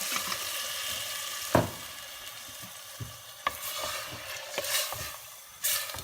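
Water is poured into a glass bottle holding the last of some thick tomato passata for a stew, with brief splashes and knocks over a steady wash of kitchen noise.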